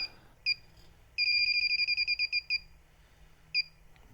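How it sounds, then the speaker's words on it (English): An Inficon D-Tek Select refrigerant leak detector sounds a high electronic double-tone alarm, first a single beep, then a rapid run of about a dozen chirps, then another lone beep, close and clear with no talking. "Ringing off a little bit higher, but it definitely does find it."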